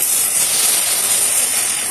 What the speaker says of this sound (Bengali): এই দেখো ভেন্ডি ভাজা হচ্ছে